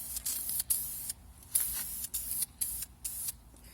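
A spray gun mists a coat onto a car body panel during auto body repair, sending short bursts of close, airy hissing in quick on-off pulses with brief gaps between them.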